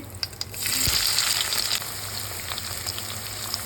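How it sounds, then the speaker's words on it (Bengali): Onions sizzling in hot mustard oil with bay leaf, cinnamon and green cardamom, a bright steady frying hiss that swells after a light clink and continues alone, close and moderately loud. "দেখুন পেঁয়াজটা দিয়ে দিয়েছি। পেঁয়াজটা এবার নাড়ছি ভালো করে।"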